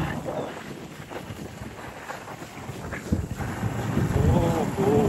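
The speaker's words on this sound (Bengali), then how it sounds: "বাতাস, সেই বাতাস।" Steady wind rushes past the microphone while riding a motorbike in Thailand, a constant roar that swells toward the end, with a voice speaking over it.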